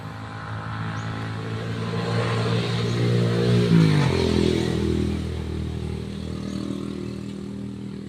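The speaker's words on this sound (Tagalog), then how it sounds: "Motor yan." A motorcycle engine runs nearby for the whole stretch, a steady low rumble that swells and revs toward the middle before settling back to a rough, even idle.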